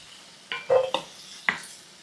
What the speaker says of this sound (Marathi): 5 मिनिटं दुधी आता छान परतून घेतला